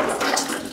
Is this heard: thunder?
no